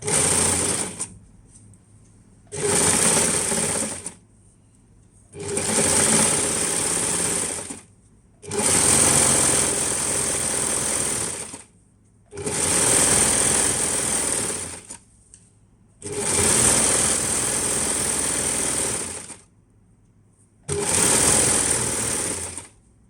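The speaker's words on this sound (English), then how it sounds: "let's go ahead, serging this" An overlock serger runs in six loud, fast-whirring bursts of a few seconds each, separated by short pauses, close up and with no talking.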